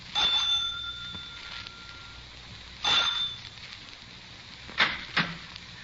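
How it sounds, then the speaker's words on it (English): A ringing bell chimes three times with short pauses between rings, clear and fairly close. "I rang the front doorbell."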